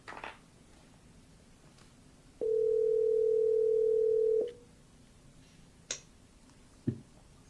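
A telephone dial tone sounds while a call is placed, a steady pure tone lasting about two seconds that begins and ends abruptly, followed by a couple of faint clicks in a quiet room.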